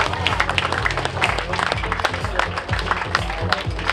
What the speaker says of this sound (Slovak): Potlesk záverečný našim dadám.